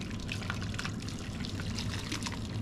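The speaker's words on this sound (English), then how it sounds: "we're gonna go ahead and rinse it off with this boiling water here" Boiling water pours steadily over a beef tongue, a continuous splashing gush close by with slight fluctuations and no one talking.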